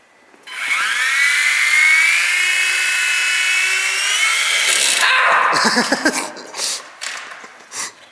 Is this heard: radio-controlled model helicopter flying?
yes